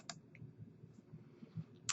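A few sharp computer mouse clicks while working in statistics software, quiet and near, with light keyboard-like tapping between them.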